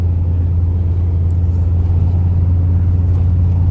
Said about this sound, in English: exhaust noise as it is from the right side